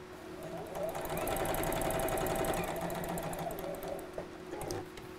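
A domestic sewing machine stitches a seam on a small pin cushion project, its needle running in a steady, fast mechanical whir for several seconds before easing off, close and clear with no talking.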